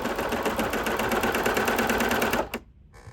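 Close, steady rapid chatter of a sewing machine double-stitching lace onto a t-shirt, running continuously for over two seconds before stopping abruptly, followed by a brief click.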